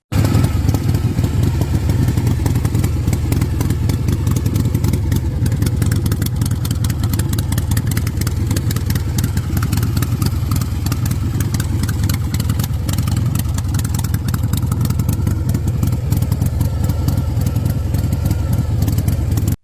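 A vintage Harley-Davidson motorcycle engine runs steadily and loudly throughout, a dense low rumble with an even, continuous throb and no breaks, close to the microphone.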